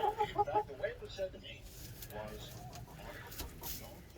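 Hens cluck and murmur close by in a short burst, then fade into quieter rustling and scattered soft sounds.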